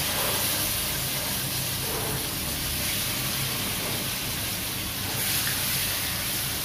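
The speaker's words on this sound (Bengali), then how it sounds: "সরিষার তেলে এটা ভাজবো আর কি।" Pomfret fish frying in mustard oil, a steady, even sizzling hiss that carries on without a break for several seconds, close and fairly loud, with no voices over it.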